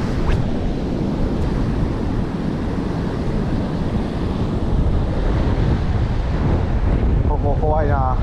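Strong typhoon wind buffets the microphone at the seaside, roaring steadily with crashing surf beneath it for the whole stretch, loud and continuous.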